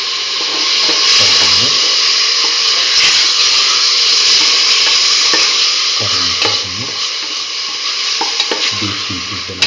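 Beef pieces fry in a hot pan with shallots, garlic and ginger, giving a loud, steady sizzle throughout, broken by a few stirring scrapes and clatters.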